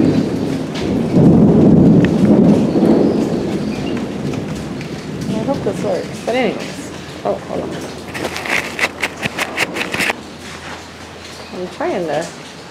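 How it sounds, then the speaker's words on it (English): Heavy rain pours steadily while deep thunder rumbles, and a voice speaks briefly over the downpour later on. "it's raining really hard and thundering and lightning"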